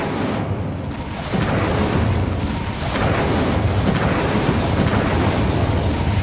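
A sustained roaring burst of flame from an Incendio fire spell in Hogwarts Legacy, loud and continuous with rumbling booms throughout.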